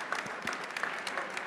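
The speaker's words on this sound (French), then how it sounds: "on peut vous applaudir vraiment très fort pour ce témoignage" Audience applause at an industry conference opening session, a steady wash of many hands clapping at moderate level, with no voices standing out.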